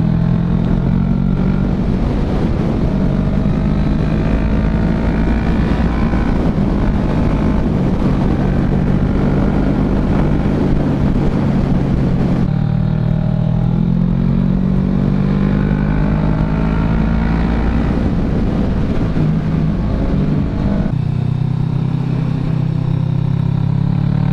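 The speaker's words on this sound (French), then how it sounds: "Oh, la BM, comment elle accélère" A BMW motorcycle accelerating on a road during a group ride, its engine a loud, continuous drone that rises and shifts pitch over about 24 seconds, with a few gear-change dips along the way.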